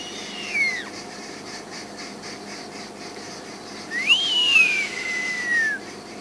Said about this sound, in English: Giant Eagle Owl